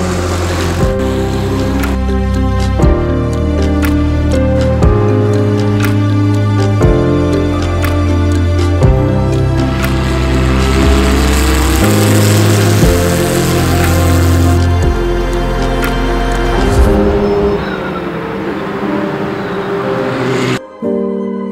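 Racing car engine on a track during a first practice session, a loud, steady motor tone with repeated gear-change steps in pitch, running continuously for most of the clip before easing off near the end.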